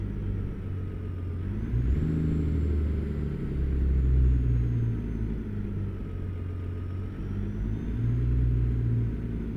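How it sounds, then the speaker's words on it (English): A Detroit diesel engine in a heavy truck in American Truck Simulator drones steadily with a deep, rumbling low end that swells and eases slightly as the revs shift, with no talking. "everybody's waiting to hear what this Detroit engine sounds like"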